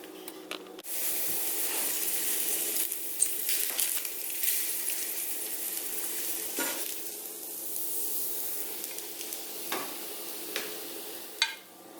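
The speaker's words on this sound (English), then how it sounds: "I'm going to heat some of this up, fry it up really good, and see what it tastes like" Bacon smoked over alder wood fries in a pan with a steady close sizzle and hiss, dotted with occasional pops and small crackles.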